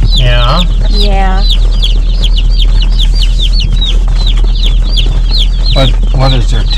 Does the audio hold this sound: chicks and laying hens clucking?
yes